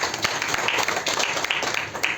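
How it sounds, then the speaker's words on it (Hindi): An audience at a Congress party gathering in Delhi claps steadily, a dense, fairly loud burst of applause from many hands filling the whole stretch. "तालियां हो जाएं।"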